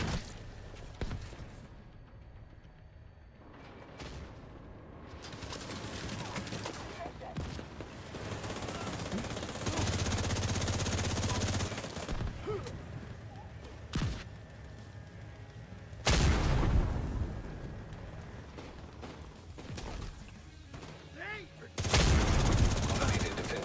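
An automated defense gun in The Division 2 fires repeated bursts of rapid gunfire, loud and close, separated by quieter stretches, while voices talk intermittently in between.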